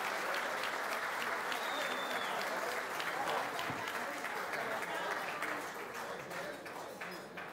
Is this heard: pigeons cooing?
no